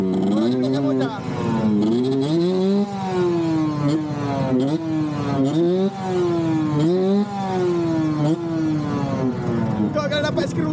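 A motorcycle engine revs repeatedly, its pitch sweeping up and down in loud, close bursts with brief drops between throttle blips, continuing for the whole stretch.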